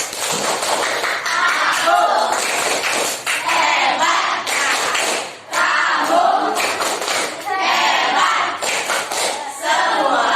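Classroom applause: a burst of dense, loud clapping from many pupils that carries on for several seconds, briefly dips and then swells again, with faint children's voices mixed in.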